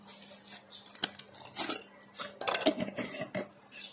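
A metal spoon clinks against a glass or bowl while black salt is added to a roasted mango drink. A few sharp, bright taps are scattered among softer stirring and scraping sounds, close and fairly quiet.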